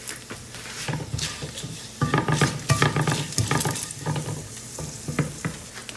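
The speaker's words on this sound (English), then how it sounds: "Next, I'm adding some red chillies. Also adding some peppercorn. Adding long and the bay leaf." Red chillies, peppercorns, cloves and a bay leaf fry in hot oil in a single pot for an Indian vegetarian dish, giving a steady close sizzle with crackling pops and a few clinks of a stirring spoon against the pan.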